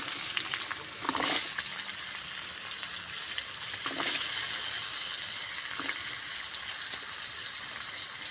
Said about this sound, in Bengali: এবার আলুগুলো আমি ভালো করে ভেজে নেব।